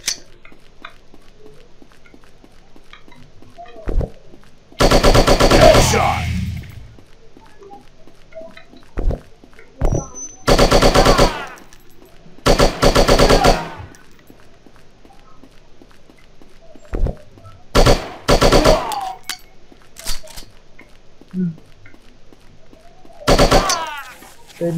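Bursts of rapid machine gun fire ring out in the shooting game Striker, several loud rattling volleys spaced across the stretch with quieter game ambience between them.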